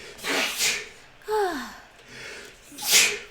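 A single sharp sneeze in the middle, flanked by softer breathy sounds and a gasp-like intake before and after.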